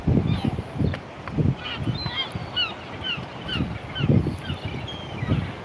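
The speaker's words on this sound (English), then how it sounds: "We have loads of birds" Birds on a beach, goose-like, call in repeated honking cries over a rumbling, wind-buffeted background, several calls overlapping at moderate distance with faint talk mixed in.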